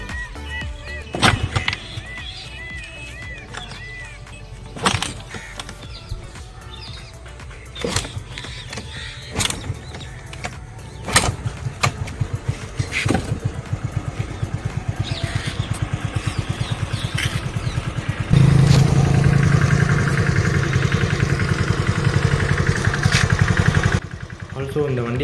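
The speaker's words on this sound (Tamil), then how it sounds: "அதனால தான் கிக்கர் யூஸ் பண்ணி ஸ்டார்ட் பண்ணுறோம்." A TVS Scooty Pep scooter with a run-down battery and worn engine is kicked over several times, then settles into a steady, close, loud idle with a rough motor rumble, with talk over the starting attempts.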